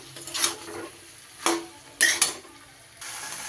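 Several scraping, clinking strokes of a spoon stirring fried broccoli and green peas in a metal pan, spaced irregularly and fairly close, with a faint sizzle between them and no talking.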